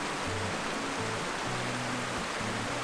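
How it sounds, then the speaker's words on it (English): Water rushes at Bridal Falls waterfall, a loud, unbroken broadband roar heard close, steady throughout with no talk. "And the sound, the water rushing."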